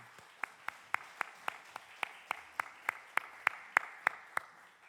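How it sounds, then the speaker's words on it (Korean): A church congregation at a Friday evening prayer service claps in a slow, even rhythm, about sixteen sharp, moderately loud claps spaced roughly a third of a second apart, with no talking over them. "다음 세대를 격려하며 다시 한번 박수 부탁드립니다."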